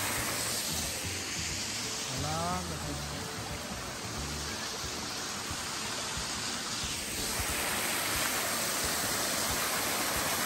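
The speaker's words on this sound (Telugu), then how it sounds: "ఇదే హియర్స్ ద వాటర్ఫాల్" Steady broadband rush of a waterfall in Kentucky, a continuous loud wash of falling water filling the whole stretch, with a brief faint voice early on.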